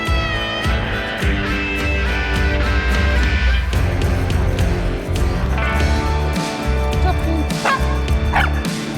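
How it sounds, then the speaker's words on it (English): A dog barks and yips amid loud, dense game music and effects in the Ironman Flex90 game, the barking partly buried in the busy mix. "Thanks for barking."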